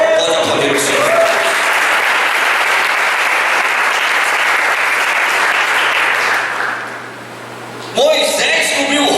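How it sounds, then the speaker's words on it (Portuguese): A church congregation breaks into loud, sustained applause and clapping that fills the room, fading slightly near the end before a voice speaks over it. "Pode aplaudir o Senhor."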